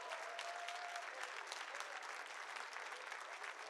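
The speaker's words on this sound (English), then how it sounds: "Can we get another round of applause, friends?" Steady, dense applause from a large crowd at a speedrunning marathon event, continuous clapping throughout with no pauses, fairly distant and even in loudness.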